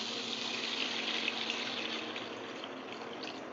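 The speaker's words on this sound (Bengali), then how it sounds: "এবার জল দেবো" About 400 ml of water pours steadily into a homemade jackfruit curry, a continuous close splashing rush that holds evenly for several seconds with no voices.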